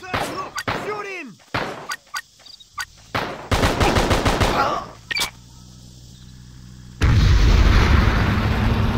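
Gunfire in the video game Just Cause, with sharp single shots and rapid bursts crackling over game sounds, ending in a loud sustained roar like an explosion or heavy fire.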